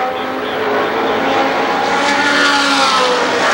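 Race cars roar around Winchester Speedway at a 1995 season opener, a loud, continuous engine drone that swells slightly as the pack runs the front straightaway.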